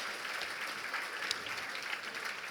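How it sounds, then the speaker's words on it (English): Steady, dense applause from a seated audience at a charity luncheon gala, sustained and even throughout, heard from a slight distance with no talking. "A round of applause for you just celebrating 35 years this year."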